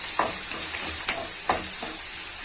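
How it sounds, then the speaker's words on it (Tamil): Onions sautéing and being stirred in a pan while cooking sambar rice (bisibelebath), a steady sizzle with a few soft spoon scrapes, close and alone. "இப்போ இதில் வெங்காயம் சேர்த்துக்கலாம்"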